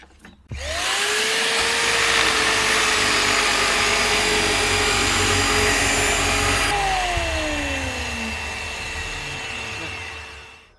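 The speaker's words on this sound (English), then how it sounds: "I'm going to connect the sander to a workshop vac system," A drum sander running with workshop vacuum extraction attached: a loud, steady motor roar and whine spins up at the start, holds, then winds down with a falling pitch. No one speaks.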